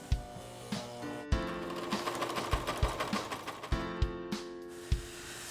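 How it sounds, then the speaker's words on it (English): A sewing machine stitches Velcro onto fabric, including a back stitch at the start and end, with close, steady mechanical whirring punctuated by regular thumps of the needle and pauses between short runs. "Don't forget the back stitch in the beginning and the end of it."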